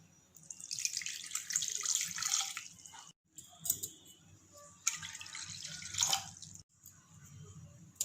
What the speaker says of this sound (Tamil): அதோட 1/2 கப் தண்ணி ஆட் பண்ணிக்கிறேன்.